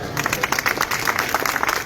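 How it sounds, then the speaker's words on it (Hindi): Union protest crowd clapping for union members at a rally of hydroelectric linemen, a short burst of scattered handclaps under a speaking voice. "इन सब के लिए तालियां बजाई"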